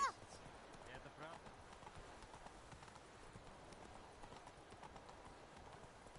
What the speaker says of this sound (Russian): А, вот лошадь с галопом скачет.